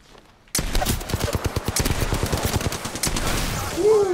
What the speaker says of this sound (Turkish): Arkadan sıkıyorlar.